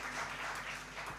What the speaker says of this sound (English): A big hand clap to our panelists who just left.